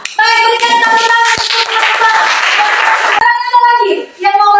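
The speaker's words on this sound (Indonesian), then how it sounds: "berikan tepuk tangan" Students in a classroom break into a burst of hand clapping lasting a couple of seconds, surrounded by close children's and adult voices talking before and after.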